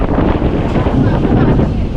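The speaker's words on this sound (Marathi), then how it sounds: "वारा बघा किती वारा बाप रे" Strong wind during a heavy monsoon rainstorm in the Konkan buffets the microphone in a loud, continuous rumbling roar with gusty surges throughout.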